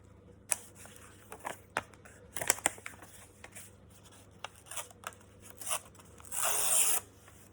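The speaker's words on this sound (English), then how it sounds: "You don't want a perfect tear, we want a messy tear." Vintage paper document torn by hand into a deliberately messy edge, heard as scattered crisp rips and rustles close by, with a louder sustained tearing burst near the end.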